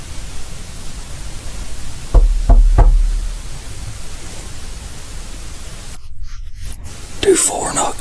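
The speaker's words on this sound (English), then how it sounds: "Do 4 knocks." Three dull knocks in a hushed, hissing room during a ghost hunt, spaced close together and fairly loud against steady background noise, with a brief whisper and rustle later.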